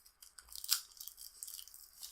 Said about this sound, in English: so you get a really nice crunch of the chocolate